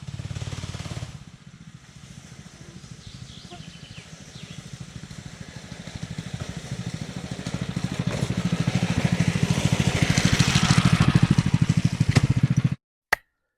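A small mini bike engine, overheating in hot weather after a ride along forest trails, runs with a steady close buzzing putter that swells louder for several seconds, then cuts off abruptly followed by a single sharp click.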